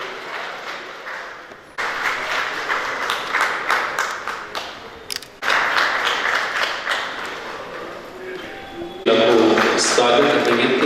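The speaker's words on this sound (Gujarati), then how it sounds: "સૌની જોરદાર તાળીઓ હોવી જોઈએ." Applause rolls through the audience at a cooperative bank's annual general meeting in several waves, with short gaps and a louder surge near the end, and voices and a loudspeaker mixed in.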